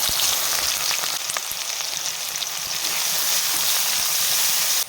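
Onions fry in hot oil in a pan for a deshi chicken biryani, giving a loud, steady, close crackling sizzle throughout with a few faint stirring clicks.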